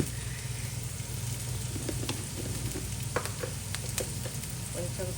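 Vegetables for street-style veg noodles sizzle steadily in a hot pan, a continuous frying hiss with scattered sharp crackles and pops across the whole stretch, close and moderately loud with no voices.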